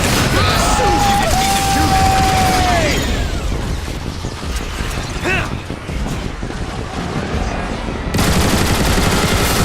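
Gunfire aimed at aerial bots in Transformers: War for Cybertron, loud bursts of shots mixed with mechanical clanks and whooshing effects throughout a dense, busy battle soundscape.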